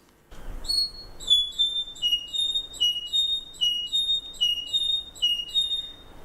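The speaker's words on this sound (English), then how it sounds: "So Hen Island is a squeaky wheelbarrow song, which is very distinctive of that population." A bird from the Hen Island population repeats its distinctive high, squeaky wheelbarrow-like phrase over and over at a steady rhythm, thin metallic notes like an unoiled wheel, clear against a quiet background.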